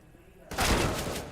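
A sudden, loud burst of CS:GO gunfire breaks in halfway through, after a quieter stretch with a faint voice, then rings out and decays during a competitive esports match.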